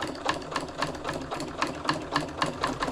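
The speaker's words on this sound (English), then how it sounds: "We're just gonna sew right down that line." Close and steady, a sewing machine stitches a seam down a line on Dollar Tree dish mats, its needle tapping out a fast, even mechanical rhythm throughout.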